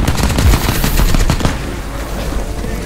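Rapid automatic gunfire from the video game Crysis 2 rattles in loud, dense bursts through the first half, then eases into a quieter rumble of distant shooting.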